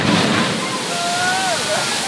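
A water jet gushes in a loud, steady rush close to the microphone, with a person speaking briefly over it.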